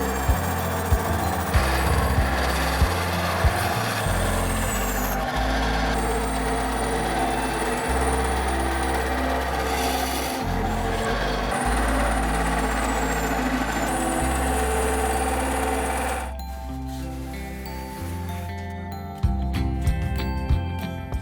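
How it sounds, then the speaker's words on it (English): A bandsaw cuts 2-inch thick foam, its motor humming steadily close by with shifting load tones for about sixteen seconds, then winding down into quieter clicks and rattles. "That should be cut out at the bandsaw."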